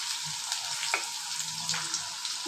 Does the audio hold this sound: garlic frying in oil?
yes